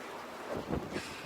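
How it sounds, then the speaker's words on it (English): Wind buffets the microphone in soft, uneven gusts at Whitby, North Yorkshire, a low rushing rumble that swells and fades over a second or so, with no voices. "It's getting windy."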